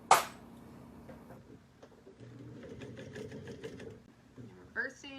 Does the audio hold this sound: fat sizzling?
no